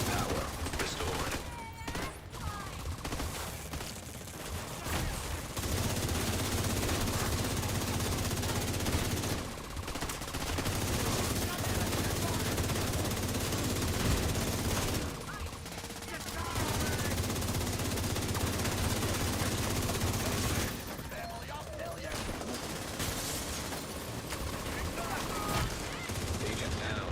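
A minigun fires in a video game in long, continuous, dense bursts broken by brief pauses, loud and close, with game voice lines over the gunfire.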